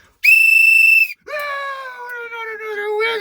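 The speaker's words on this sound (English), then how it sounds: "Oh, another whistle." A toy whistle blown in a room: a loud, steady shrill tone lasting about a second, then a short gap and a second, lower, longer whistle blast that slides slightly downward.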